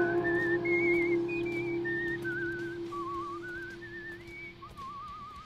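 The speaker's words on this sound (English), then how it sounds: "and then just whistling the Tales from the Crypt theme song." Someone whistles the Tales from the Crypt theme tune alone, a wavering melodic line stepping up and down, clear and close over a steady low hum.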